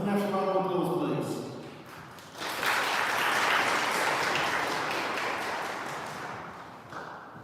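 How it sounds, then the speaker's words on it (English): An audience at a live televised honouring ceremony breaks into a sustained round of applause, dense and steady for several seconds, with a voice speaking over the opening before the clapping swells. "A national round of applause, please."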